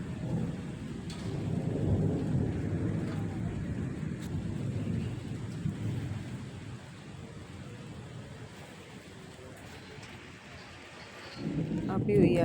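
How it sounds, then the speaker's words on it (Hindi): Rain falls steadily after earlier drizzle during a thunderstorm, with low rumbling thunder and wind buffeting the microphone throughout, a broad wash of noise that swells again toward the end. "अभी हुई है बारिश, पहले बूंदाबांदी थी फिर बारिश हुई"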